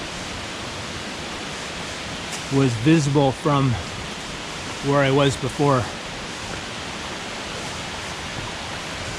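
Juan Curie waterfall in Santander, Colombia, gives a steady, even rushing roar that fills the whole stretch, with someone speaking over it for a few seconds midway.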